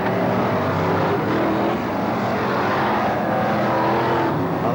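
F1 stock cars race at Belle Vue Stadium in the 1987 World Championship Final, a dense, loud roar of many engines filling the whole stretch with no break.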